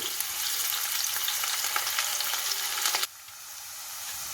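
Finely chopped onion frying in hot groundnut oil, a dense, loud, close sizzle that drops abruptly to a quieter hiss near the end, with no talking.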